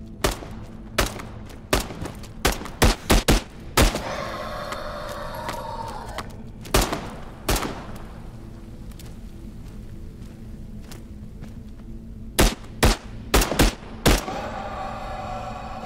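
Gunfire in the video game Into the Radius 2, loud sharp reports in scattered single shots and quick bursts, clustering at the start and again near the end, with quieter stretches of game ambience between.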